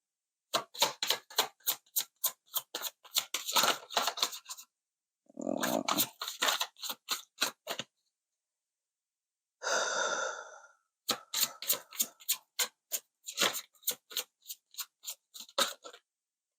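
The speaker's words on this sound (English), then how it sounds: "I will pull a couple oracle cards directly from Mary Magdalene deck" Oracle cards are drawn and handled from a Mary Magdalene deck, giving quiet runs of quick crisp card clicks in several bursts separated by short silent pauses, with no talking.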